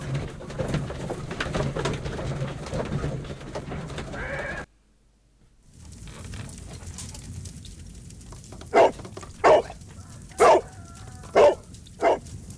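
In the Sherlock Holmes video game, a dog gives five sharp, loud barks spaced about a second apart. They follow a brief silence and quiet ambient game sound.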